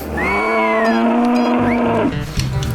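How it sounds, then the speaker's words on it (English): Cattle being roped and ear-tagged low in a long, loud, close moo that lasts about two seconds, followed by a shorter lowing sound and a few thumps, with no talk. "So, we're roping the cattle here, and apparently it's my job now."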